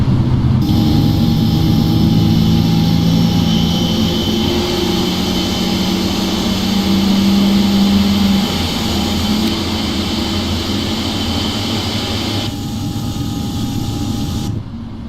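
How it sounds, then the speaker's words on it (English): Jet engines run up loud inside a cockpit in an FSX flight simulator game, a continuous dense roar with steady whining tones that holds for over twelve seconds before easing slightly. "About to get very loud inside the cockpit here because of the engines"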